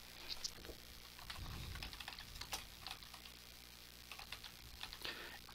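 Typing on a computer keyboard while writing a story for an RPG map, light scattered keystrokes and clicks at a moderate distance, fairly quiet against a steady background hum.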